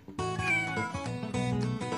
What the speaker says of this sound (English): One more time, what does the kitty say? Meow, meow